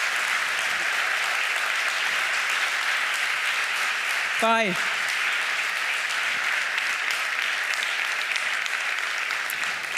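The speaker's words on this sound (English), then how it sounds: "Big applause." An audience at a human rights award ceremony claps in a steady, even wash of applause that runs throughout, with a single voice speaking briefly over it partway through.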